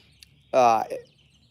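A backyard chicken gives a single short, nasal cluck close by, with a faint tap just before it and quiet surroundings on either side.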